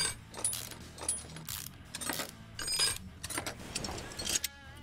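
Metallic clicks, ratchet-like rattles and small clunks of engine parts being unbolted and pulled off a Mercedes in Car Mechanic Simulator, a busy run of close, mid-level mechanical game sounds with no talk.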